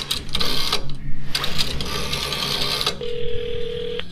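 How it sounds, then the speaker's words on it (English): An in-game telephone in the horror game White Night 2 rattles and rings in bursts, then a steady dial tone hums for about a second before cutting off. "No, we're gonna try the phone first."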